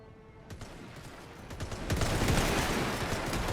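Soldiers firing in a war game, a dense crackling fusillade of rifle shots that thickens and grows louder toward the end, with distant reports blending into a continuous roar.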